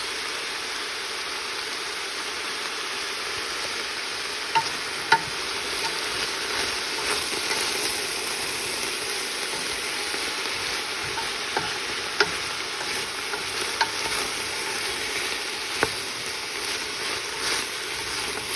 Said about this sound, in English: mix up the onions so that the oil really coats them